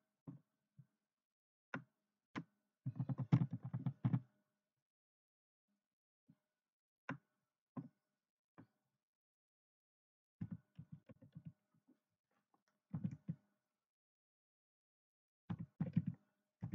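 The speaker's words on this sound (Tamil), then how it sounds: "இப்போ வேற இன்னொரு அட்ரஸ் டைப் பண்ணிட்டு இருக்கேன்." Typing an address on a computer keyboard: bursts of quick, soft key clicks with single isolated taps between them and short pauses, close and fairly quiet.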